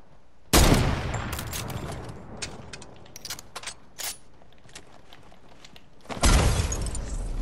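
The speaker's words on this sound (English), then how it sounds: "I hear sniping, I don't see him." In the Fortnite video game, a loud close blast opens a run of crackling, scattered gunshots and debris clatter, and a second heavy boom near the end echoes out.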